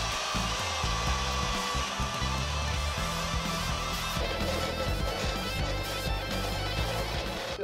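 A drill bores through metal to make an axle hole for a homemade sheet-metal roller, giving a steady, loud, continuous whine throughout with no talking.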